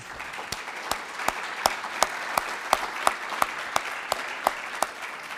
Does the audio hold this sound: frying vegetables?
no